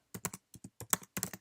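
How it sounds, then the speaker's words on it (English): Quick, close clicks of fingers typing on a computer keyboard, a few short bursts of keystrokes with brief pauses between them. "I'm just going to type"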